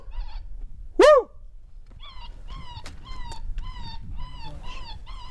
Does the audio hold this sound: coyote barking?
yes